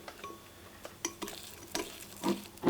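Cocoa powder and vanilla are stirred into a small brownie batter in a bowl, giving quiet intermittent scrapes and clinks of a utensil against the dish that grow a little louder toward the end.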